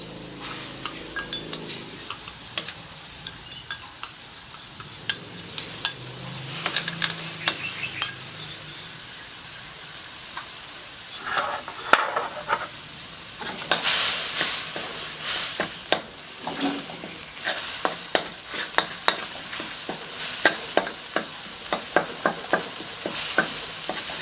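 Curry paste stir-fried in a pan for a duck egg curry, with a steady sizzle under repeated scraping and clinking of a utensil against the pan, continuous and close with no talking.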